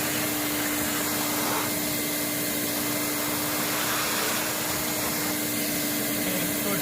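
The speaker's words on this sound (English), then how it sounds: "I'm gonna vacuum again." A shop vacuum cleans out a joint in a resurfaced concrete pool deck before sealant goes in, its constant whining roar with a steady tonal hum running loud and close the whole time, no voices.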